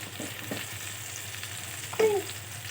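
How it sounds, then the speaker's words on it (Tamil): Sliced taro root frying in a pan, a quiet continuous sizzle with a few soft scrapes and one brief louder stir near the end, no voices. "இப்போ நல்லா ஃப்ரை ஆகட்டும்"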